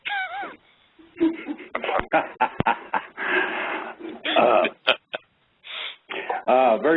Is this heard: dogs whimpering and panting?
yes